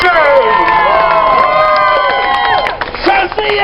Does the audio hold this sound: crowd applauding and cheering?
yes